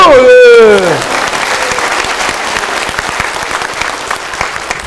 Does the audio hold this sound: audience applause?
yes